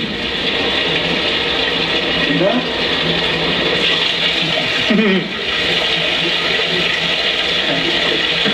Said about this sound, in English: It's how the speed of the water flow changes with just the swipe of a finger at the front.